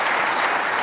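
Studio audience at a televised talk show on tolerance breaks into dense, steady applause, loud and sustained throughout the short moment with no pauses.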